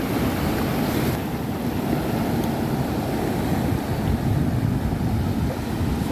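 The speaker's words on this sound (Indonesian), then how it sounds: "berat sekali ombaknya, aduh, terlalu kencang" Heavy sea waves rocking a fishing boat, a continuous loud rushing wash of water and wind noise close by, with no talking.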